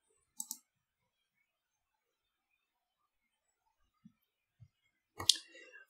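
A few isolated computer mouse clicks, sharp and close, spread across near silence with a couple of fainter ticks between them.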